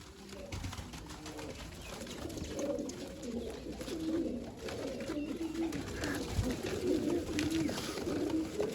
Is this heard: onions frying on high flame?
no